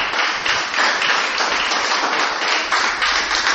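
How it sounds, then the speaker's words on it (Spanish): A church congregation claps together in a dense, steady burst lasting a few seconds, loud and close, with no voices over it. "Démosle un aplauso a Jesucristo."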